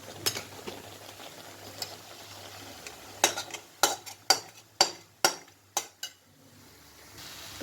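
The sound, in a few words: stirring khoa into cooking carrot halwa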